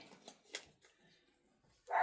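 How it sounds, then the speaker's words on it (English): A dog indoors gives a few faint, distant barks in short bursts, followed by a loud, close sharp yelp or bark at the end in a quiet room. "I need to find out what Baxter's barking at"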